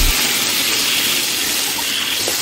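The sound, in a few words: clear water poured into the pot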